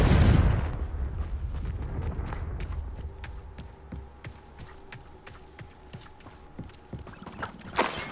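The Confringo fire spell cast in Hogwarts Legacy goes off as a loud explosive burst at the start, fading into a series of sharp clicking impacts and ringing game effects.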